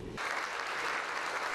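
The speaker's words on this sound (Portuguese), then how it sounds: "o Dr. Brasil Salomão foi aplaudido de pé pelos presentes" A crowd in a city council chamber in Ribeirão Preto, Brazil, breaks into sustained standing applause, a dense, even roar of clapping that starts abruptly and holds steady.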